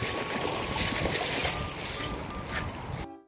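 Strong current of flood water rushing past, a loud, dense, continuous roar of churning water close by that cuts off abruptly at the end.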